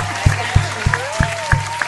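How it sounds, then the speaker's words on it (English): Hand clapping from an audience at a prom sponsorship event, six crisp claps in a steady, even rhythm with faint background voices between them. "Give me a hand clap."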